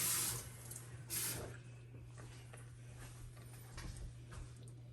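Water is poured into a thick tomato sauce with shrimp while cooking camarones entomatados, giving a steady running, splashing wash with a couple of louder bursts over a low hum, with no talk.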